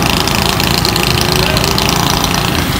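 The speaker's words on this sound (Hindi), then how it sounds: "हमारी बाइक में पता नहीं क्या हो रहा है, झटके मार रही है।" A motorcycle engine runs rough and jerky, throbbing with an uneven knocking pulse, loud and close throughout with no pauses.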